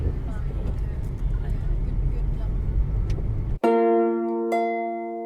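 Car rolling through dense Delhi street traffic, a steady low rumble of engines and road noise for several seconds that cuts off abruptly into a ringing sustained tone.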